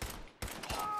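Gunfire in the video game Fallout 4, a short burst of sharp shots in quick succession, loud and close, a brief gap, then more shots with a ringing tail; speech also registers in the background.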